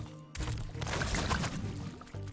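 A steady, full rush of falling water from the large waterfalls in the Skylanders Swap Force video game, loud and continuous apart from a brief dip near the start.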